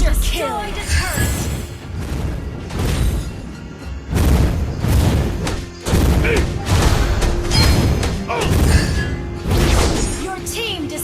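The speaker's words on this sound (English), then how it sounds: "Your team destroyed a turret!" Turret destruction in a Mobile Legends match, a burst of booming blasts and crashing impacts layered with battle effects and game announcer voice lines.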